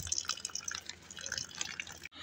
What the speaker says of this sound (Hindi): ये 3 बाल्टियाँ हैं जो मैं पानी के भर के रख रहा हूँ।